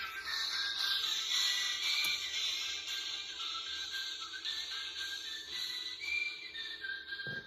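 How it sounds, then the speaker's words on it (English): A person whistles a melody live on a morning radio show, steady high tones sliding from note to note for several seconds, clear and fairly close, with no talking. "Whistle right along."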